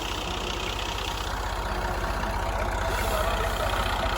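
An old-model tractor idles next to a sugarcane trolley being loaded, its diesel engine thumping in a fast, even low chug that continues steadily and close by with no talking.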